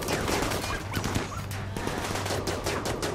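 Rapid gunfire in the Rimworld colony-building game, a dense stream of crackling shots overlapping into a continuous fusillade at steady volume, with no talking.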